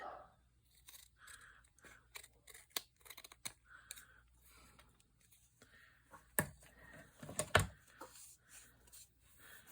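Paper trimmed with scissors while making a vintage journal with accordion pockets, giving a series of short crisp snips and cuts at close range, with louder crunchy cuts near the end and no talking.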